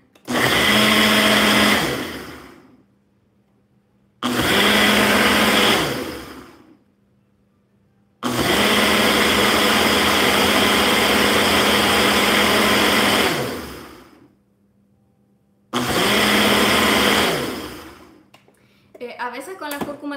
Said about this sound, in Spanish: Ahora lo vamos a licuar. Aquí tengo la licuadora.